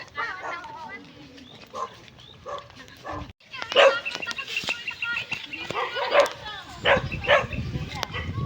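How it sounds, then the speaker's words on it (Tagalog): A dog barks several times at a fishing spot, sharp yaps rising over steady talk and outdoor background, with a busier burst of barking in the second half. "Tatahula na kami ng aso."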